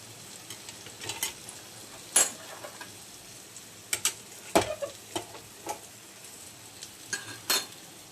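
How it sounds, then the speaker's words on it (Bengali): Mutton fat pakoras deep-fry, a faint bubbling hiss underneath with scattered clinks and utensil taps, some brief sharp pops and knocks at irregular intervals. "ফ্রেন্ডস মটনের চর্বির পকোড়া ভাজা হচ্ছে দেখতেই পাচ্ছেন খুব সুন্দর গো ফুলে ফুলে উঠেছে"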